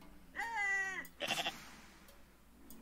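A goat in the video game Goat Simulator lets out a loud wavering bleat, followed by a second shorter, choppy bleat, with no talk over it.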